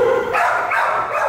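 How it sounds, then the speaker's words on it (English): Several dogs bark continuously in the kennels of an animal shelter, loud, overlapping yaps and barks close by that fill the whole moment. "We have a lot of dogs, like I said."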